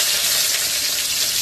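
Fish pieces fry in hot oil, giving a steady, dense sizzle that fills the whole short moment without pause.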